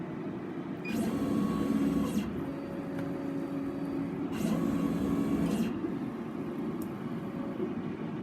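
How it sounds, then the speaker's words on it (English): Laser cutter head travelling around a rectangular frame path, a steady mechanical hum with periodic swelling whines as the head changes direction, fairly close and continuous. "I'm going to hit the frame button, which will immediately start moving the cutter head in roughly a kind of a rectangle"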